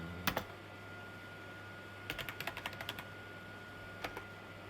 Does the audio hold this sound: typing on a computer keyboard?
yes